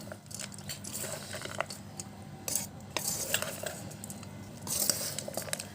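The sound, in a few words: mixing bhel puri with salt, mango powder, chaat masala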